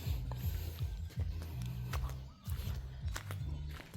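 A new car licence plate is being fastened in place, heard as close, repeated ratcheting clicks and small mechanical creaks in an uneven rhythm, with no talking.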